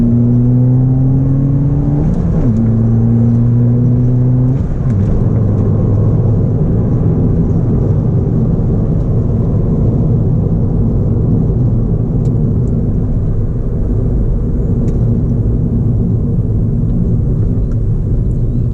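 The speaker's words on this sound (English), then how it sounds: "I left it in gear a little bit longer to allow the engine to pull more power out of each gear" Manual-transmission car engine accelerating hard, revs climbing and held longer in second gear before a shift, then a steady loud engine drone and road rumble continuing throughout, close and alone with no talking.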